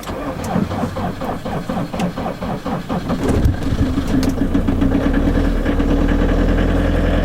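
A car engine on a European road trip cranks over with a ragged, stuttering churn, then catches and settles into a steady, loud idle, heard up close with no talking.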